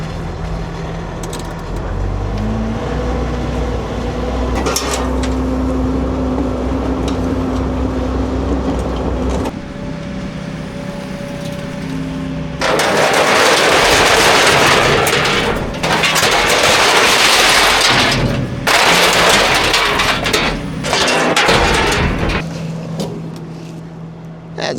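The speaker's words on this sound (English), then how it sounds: "Let's start up the skid steer." A skid steer engine starts and idles with a low, even rumble, then breaks into a loud, rough roar in long bursts with short dips between them.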